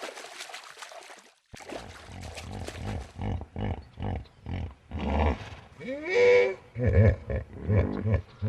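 Hippos in an African setting give a series of muffled, grunting honks and snorts in rhythmic bursts, close and fairly loud, following a short opening stretch.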